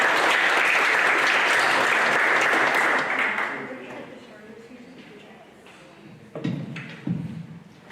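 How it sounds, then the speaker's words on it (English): An audience at a high school soccer awards ceremony applauds loudly for about three seconds, then the clapping thins to scattered claps with a couple of louder thumps and murmuring. "You guys give him a round of applause."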